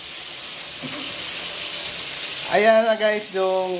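Food frying in hot oil sizzles with a steady hiss at moderate level, while someone talks over it and then speaks loudly near the end.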